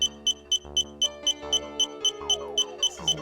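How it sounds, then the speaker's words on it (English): Repeated electronic beeps in the video game Drowned God, about four per second, sharp and regular, with a droning synth tone and a rising sweep underneath. "If you like annoying beeping sounds"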